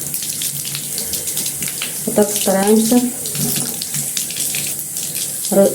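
Warm tap water runs steadily into a sink while violets are bathed, a continuous close splashing stream with someone speaking briefly over it.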